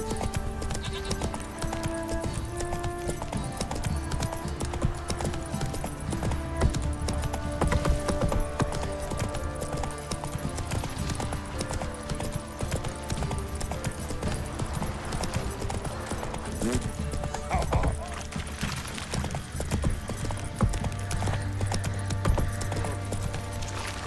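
Hooves of Roach, the horse in The Witcher 3, clip-clop in a steady rhythm beneath a dense, continuous game soundscape of music and ambience, with an occasional whinny-like sound.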